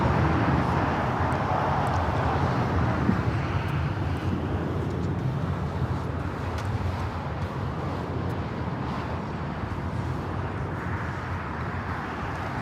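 JetBlue Airbus A321 taking off from Los Angeles, a steady broadband jet rumble that stays fairly even throughout, at moderate distance with no clear speech.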